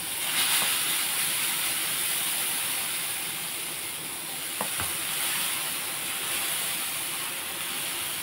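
Urad dal dosa (minapattu) batter sizzles and hisses steadily on a hot pan, a constant close frying crackle throughout, with a couple of brief clinks near the middle and no talking.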